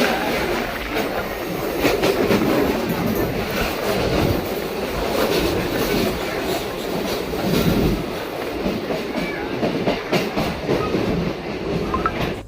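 A train ride toward Indiranagar railway station in Chennai, with a steady, loud rumble of wheels on rails, rhythmic clickety-clack, and occasional squeals over a constant rushing carriage noise.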